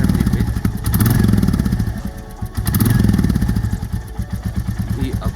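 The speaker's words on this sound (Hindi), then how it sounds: "हल्का सा, वेरी माइन्यूट इसमें हमें वाइब्रेशन का साउंड आ रहा है।" Royal Enfield Bullet Classic 350 BS6 motorcycle engine running with a steady thumping single-cylinder beat and a faint vibrating rattle, close and fairly loud, rising and falling slightly while someone talks over it.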